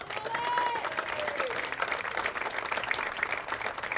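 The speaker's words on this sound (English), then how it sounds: "Please join us once more for a round of applause for these 19 tremendous seniors." Crowd applause at a college baseball game honoring seniors, a steady wash of clapping and cheering with a faint whistle, moderately loud and continuous throughout.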